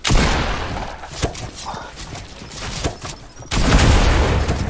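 Gunfire in the Fortnite video game during an Arena Duos match: loud, dense bursts of shots and impacts, opening with a heavy volley, then scattered cracks and thuds before another loud burst at the end.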